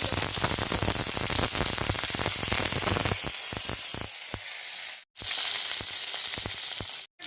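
Green chillies fry in hot oil with a dense, crackling sizzle and sharp pops, loud and close, the sizzle briefly cutting out near the end.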